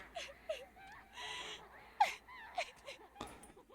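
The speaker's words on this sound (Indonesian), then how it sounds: "Ini suara tangisan di mana?" Ghostly crying in the horror video game Dreadout: a faint, eerie wailing and sobbing with gasping breaths and whimpers, repeating in short bursts over quiet background ambience.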